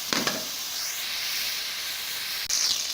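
Chicken pieces for a desi chicken yakhni fry in a pan with a steady, close hiss and sizzle that stays even throughout, with a brief sharper burst near the end.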